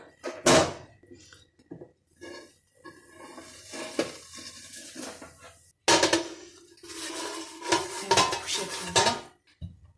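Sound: flipping baked kadayif in a metal tray

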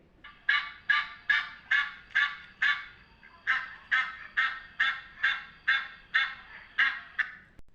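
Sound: geese honking

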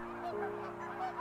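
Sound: bird flight call

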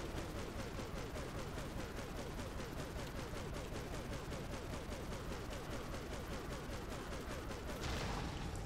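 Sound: gunfire from guns in the video game Prototype Remastered

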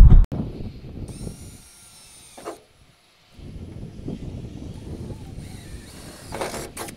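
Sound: drill boring a pilot hole

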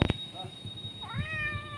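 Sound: cat meowing while waiting for food

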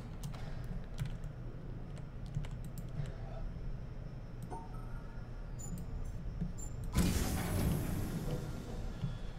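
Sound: typing on a computer keyboard and mouse

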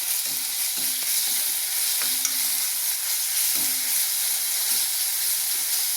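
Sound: ginger garlic paste frying and stirred with onions in pan

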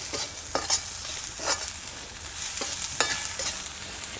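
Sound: masala being stirred and sautéed in pan

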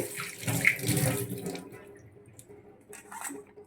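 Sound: washing grass carp fish pieces under running water

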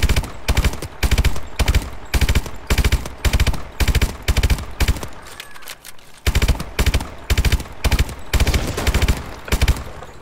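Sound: gunfire, from a video game

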